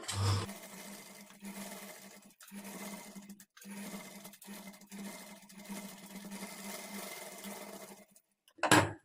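A sewing machine fitted with a normal presser foot sews edge stitching along a lining for thread piping, running in several short, steady bursts with brief pauses between them, fairly close and moderately loud.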